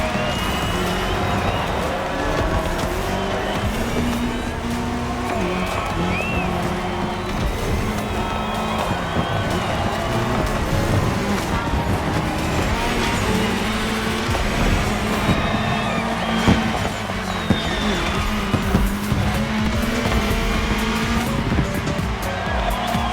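Race cars run on tarmac in The Crew Motorfest during a Red Bull Speed Clash cross-terrain race, with constant loud engine roar, shifting revs and tire squeal over a continuous close mix, and occasional faint talk.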